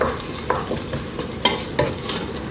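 Onions, ginger and salt sautéing for mutton biryani, a steady close sizzle broken by several sharp spoon-stirring scrapes across the pan.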